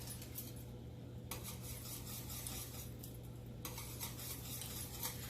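A whisk scrapes and stirs steadily through a cheese sauce for mac and cheese in a pot, a faint continuous rasping with no talk.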